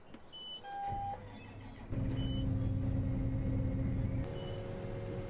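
A motor whirs briefly, then a tractor engine in Farming Simulator 15 turns over and settles into a steady low rumbling idle resembling a pickup truck, close and moderately loud, with no voices.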